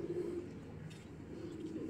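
Racing pigeons of an age-bird line coo softly and continuously in a loft, a low steady murmur close by with no talk.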